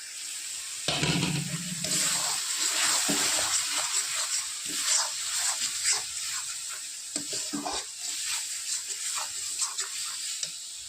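Spices fry in hot oil for a jackfruit and prawn curry, with a steady sizzle broken by repeated scraping stirs and clinks of a spoon in the pan.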